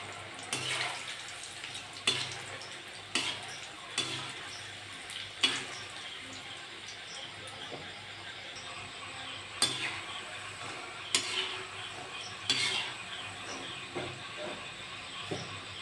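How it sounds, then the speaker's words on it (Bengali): Flour-dough snacks frying in hot oil in a wok over a gas flame give a steady bubbling hiss, punctuated every second or two by sharper pops and crackles, close and moderately loud with no talking. "তেলটা গরম হয়ে গেছে, আমি এবার ভেজে নেব।"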